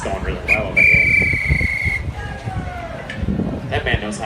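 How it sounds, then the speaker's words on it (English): A whistle gives one sustained shrill blast, then a fainter descending tone, amid a lively crowd scene at a Citizens of Hollywood street performance, with people talking over it. "That man knows how to work a whistle"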